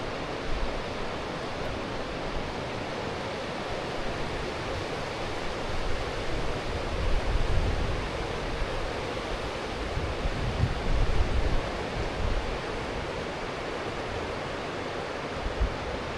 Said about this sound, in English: The mighty Colorado River.